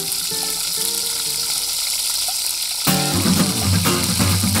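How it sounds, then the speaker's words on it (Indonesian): Ground spice paste dropped into hot oil in a wok for sayur kondang, a loud steady sizzle that jumps to a fiercer crackling fry partway through. "Bumbu yang sudah halus dimasukkan ke dalam wajan yang sudah diisi minyak panas."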